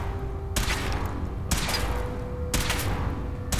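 Gunshots from a weapon fired in Fallout 4 ring out as three sharp, loud cracks about a second apart, each ringing briefly over a low background hum.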